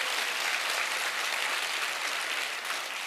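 A church congregation claps at a Saturday night worship service, a steady, dense wash of applause that holds evenly throughout with no pauses.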